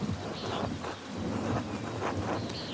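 Steady rain patters in the Pentiment video game while low thunder rolls and rumbles underneath, faint and continuous.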